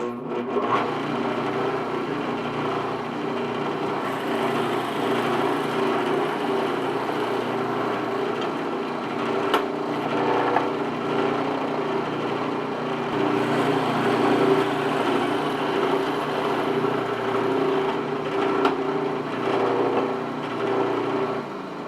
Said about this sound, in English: I've picked out the 3/4 inch bit because that's what the plan says. Now here we go, the boring part.